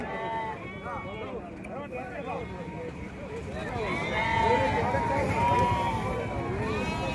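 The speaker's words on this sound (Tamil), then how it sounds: "எல்லாம் நல்ல ஆடு தான், ஜுடிப்பி ஆடு." Ongole Judipi sheep bleat repeatedly at a busy outdoor sheep market in Gudur, with overlapping calls near and far amid crowd chatter and people talking nearby.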